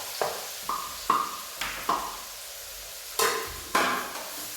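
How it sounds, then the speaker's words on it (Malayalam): Soybeans tipped into a pan of hot curry leaves over high flame, giving short sizzling bursts as they are stirred, with a steady rhythm of scraping strokes and a couple of louder stirs near the end. "നമ്മുടെ കറിവേപ്പിലൊക്കെ ചൂടായിട്ടുണ്ടെങ്കിൽ നമ്മുടെ സോയാബീൻ ഇട്ട് കൊടുക്കാം."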